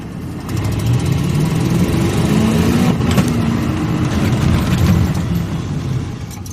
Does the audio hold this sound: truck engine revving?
yes